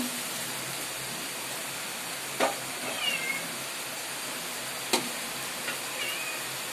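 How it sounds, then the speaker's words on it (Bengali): Pangas fish cooking in a pan gives off a steady, fairly soft sizzling hiss, broken by a few brief clicks and pops. "আজকে আপনারা দেখছেন যে পাঙ্গাস মাছের রেসিপি এই যে রান্না করা হচ্ছে"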